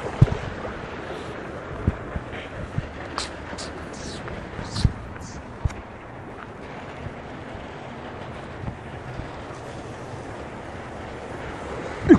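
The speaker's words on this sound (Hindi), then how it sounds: "ये बहुत स्पीड में पानी आ रहा है" Water rushes fast through the channel of a panchakki, a water-powered grain mill, making a steady, close, broadband roar that holds unbroken for the whole stretch, with a few brief knocks and clatters on top.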